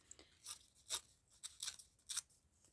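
Brittle, yellowed old children's book paper crunching and crackling in a series of short, dry, crisp bursts, close and fairly quiet, with no talking.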